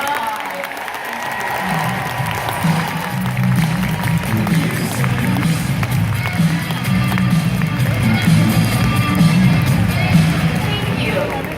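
A large audience at a Mary Kay event claps and cheers for Michelle, sustained loud applause mixed with crowd noise, whoops and murmuring that holds steady for over ten seconds.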